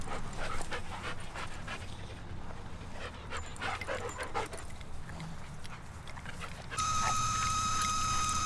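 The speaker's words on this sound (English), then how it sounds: "What are you doing, you fluffy dog?" A fluffy dog panting hard after playing at the dog park, rapid rhythmic breaths up close and steady throughout, with a faint whimper and a thin tonal hum entering near the end.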